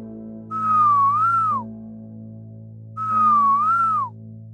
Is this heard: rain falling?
no